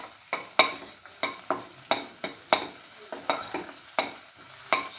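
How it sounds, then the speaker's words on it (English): Shallots with salt sautéing in a pan, a soft sizzle broken by about a dozen sharp, evenly spaced stirring scrapes, close up and heard alone. "saute."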